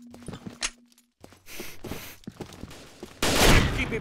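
Gunfire from a shooter video game: a few sharp single shots, then a louder, denser burst near the end, with a low tone humming early on.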